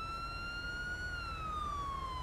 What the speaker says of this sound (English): I'm gonna go turn off a siren over there